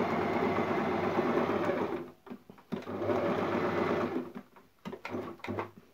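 A Singer Tradition sewing machine runs in fast, close bursts of stitching, stopping briefly between runs, with no one speaking.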